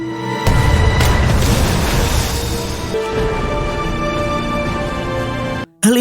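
Cannon fire in a sea battle at Myeongnyang: a heavy boom bursts out near the start with a second blast close behind, then a long rumbling decay over dense background noise.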